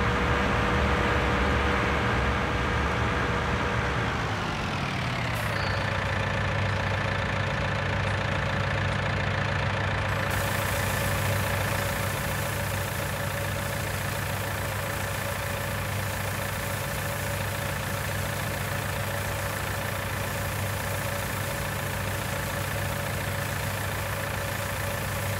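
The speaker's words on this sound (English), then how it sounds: "Just don't crash the tractor, okay?" Tractor engine in the video game Farming Simulator 19, a loud steady diesel drone that drops in pitch as it slows, then idles evenly and continuously with no talk.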